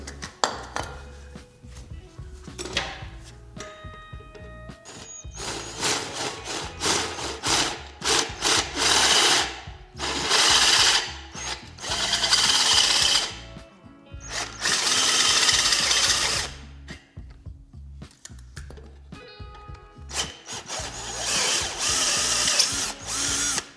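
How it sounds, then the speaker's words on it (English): Power drill with a comically long bit boring through a motor during a 212cc engine swap on a Honda Grom clone, running in repeated loud bursts of whining, grinding drilling separated by brief pauses. "The reason I have a comically long drill bit is because I gotta get through the motor as well."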